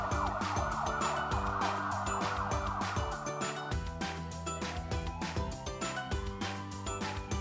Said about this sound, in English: Ambulances use emergency lights and sirens to get to patients quickly,